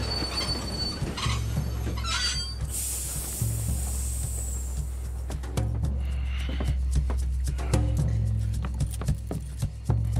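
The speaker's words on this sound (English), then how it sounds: "Mr. Arthur, I didn't know you could drive a train" Train wheels squealing on rails as a train moves in Red Dead Redemption 2, with shrill metallic screeches over a low rumbling chug and hiss, loud and close, no talk.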